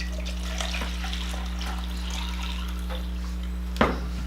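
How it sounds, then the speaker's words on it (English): Tap water runs steadily into a cooking pot for chicken mole, a continuous close splashing stream over a low hum, ending with a sharp knock. "And I'm gonna put the water in here."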